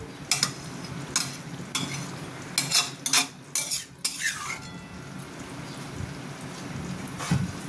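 Chicken chap is stirred in a pot with a utensil. Sharp scraping knocks come in quick, irregular bursts during the first half, then fade to a quieter simmering background with an occasional stroke.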